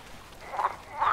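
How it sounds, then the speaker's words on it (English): A frog in the video game Meadow gives two short, close croaks, the second following soon after the first, over quiet background ambience. "There's a froggy. Hello, little frog."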